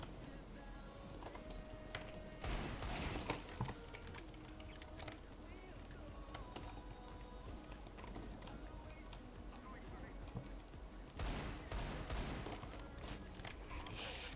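Rapid gunfire from a Desert Eagle pistol in an online shooter, repeated cracks and clattering shots scattered through the stretch with louder bursts near the start and end, under steady background game noise.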